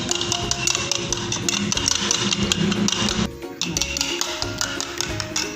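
Rapid clinking of a utensil beating a mixture in a bowl for chicken soup, a fast continuous rhythmic tapping that briefly pauses before resuming, no talk.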